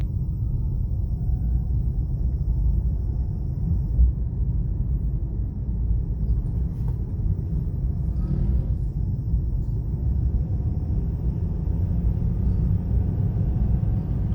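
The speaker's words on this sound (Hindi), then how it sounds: "गाड़ी पिक ले रही है" A Toyota Aqua driven in B gear on local roads drones steadily with low rumbling road noise, the hum building slightly as the car pulls ahead, no voices heard.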